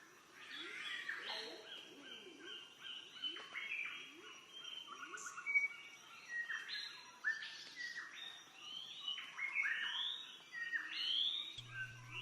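Many noisy parrots of at least two varieties call and screech in a forest area of Pacaya, Coatepeque, Quetzaltenango, with overlapping squawks and chirps coming in irregular bursts at a moderate distance for about twelve seconds.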